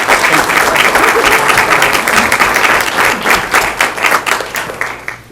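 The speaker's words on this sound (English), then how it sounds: "Round of applause, please," A city council meeting audience applauds for Jacob's Heart, a children's cancer charity, with loud, sustained clapping from a full room that tapers slightly toward the end.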